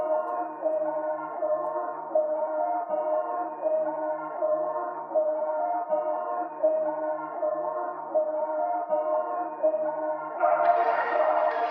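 A repeating synthesized tone pattern of beat accents in a gloomy trap style pulses in a steady rhythm, with echoing delay trails smearing each hit. Brighter, busier effects swell in near the end.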